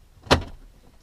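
A single sharp plastic click as a Lexus IS300 climate control panel is pushed into place, close and brief, with quiet surroundings.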